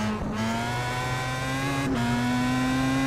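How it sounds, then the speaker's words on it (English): A Pro Mazda race car at Brands Hatch GP accelerating at full throttle, its engine note a loud, steady, close high-pitched drone that climbs slightly, with a brief dip at a gear change. "push the car out to this outside AstroTurf using full throttle"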